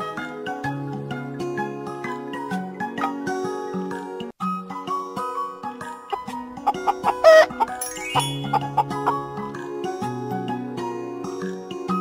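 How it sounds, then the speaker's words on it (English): A hen's clucking set against a bright, busy children's music backing, with short cackling bursts near the middle and no speech. "Hen."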